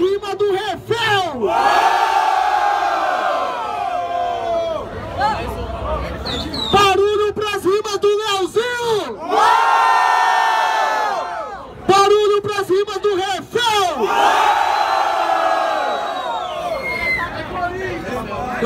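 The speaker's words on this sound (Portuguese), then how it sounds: "Barulho pra rima do Refel!" At the final of a rap battle event, a crowd erupts in repeated loud waves of shouting and cheering, each surge lasting a few seconds, broken by an MC hyping the audience between them.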